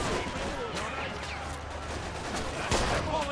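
Gunfire in a Mafia 2 video game battle scene, dense, noisy bursts with a few sharp cracks, one louder shot near the end, over a steady rumbling backdrop with faint voices.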